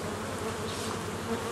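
Honeybees fly in and out at apiary hives after a formic acid treatment, a dense, continuous buzzing swarm sound close by with no voices over it.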